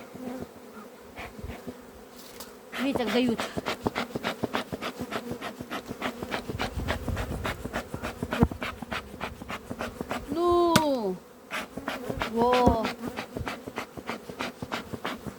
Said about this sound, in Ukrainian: Не можна зігнати бджолу вулиць, стільки бджоли.